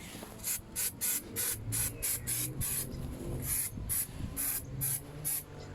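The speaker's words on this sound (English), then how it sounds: "Let's just spray some brake cleaner on there" An aerosol can of brake cleaner sprays onto a car's rear brakes in a series of short hissing bursts, about a dozen quick blasts with brief pauses between, up close.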